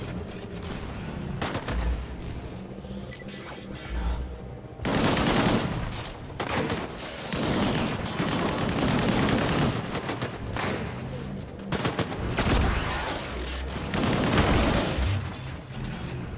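Gunfire in the video game Disintegration: dense bursts of automatic fire and heavy blasts recur throughout, loud and near, with brief lulls between volleys.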